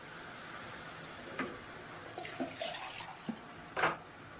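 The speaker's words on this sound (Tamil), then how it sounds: "இப்போ வந்து இது வந்து மட்டன் தண்ணி எல்லாம் இது ஊற்றிக்கலாங்க." Mutton stock water is poured into a cooking pot for basmati rice mutton biryani, giving a faint splashing trickle with a few clinks and a brief louder pour near the end, and no talking.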